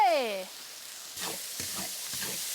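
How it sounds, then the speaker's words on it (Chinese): Ginger, garlic, chili bean paste, chili flakes and chopped chili sauce stir-fry in oil until it turns red, a short sizzle with spatula scrapes, following a brief voice at the start. "快速给它炒出红油来"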